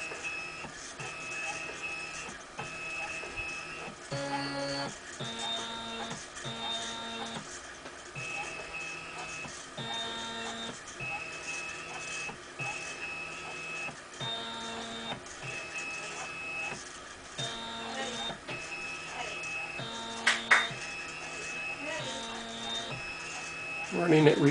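A DIY 3D printer driven by an Arduino Mega runs its lead screws, giving steady stepper whine with repeating tonal beeps and ticks, moderately loud and close throughout.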